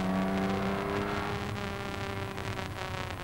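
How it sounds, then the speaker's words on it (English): A race car in the rFactor 2 racing game at Le Mans accelerates hard from the start, its engine note climbing loud and close as it pulls away. "Moving off. Accelerating hard up to Dunlop Bridge."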